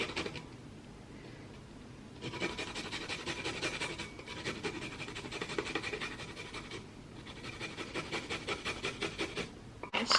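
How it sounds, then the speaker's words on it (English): A garlic clove is rubbed against a tiny hand grater over a bowl, giving bursts of fast, rhythmic rasping strokes, close and fairly steady, separated by brief pauses. "we're gonna grate it, with my little tiny grater"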